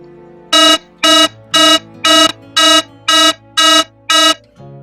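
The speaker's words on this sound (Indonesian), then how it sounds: "Jika panic button ini ditekan, maka alarm juga akan berbunyi" An alarm buzzer driven by a microcontroller, triggered by a panic button wired to pin 21, sounds eight loud, evenly spaced electronic beeps over a steady low hum, with no talk.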